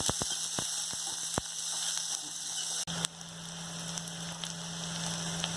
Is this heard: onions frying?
yes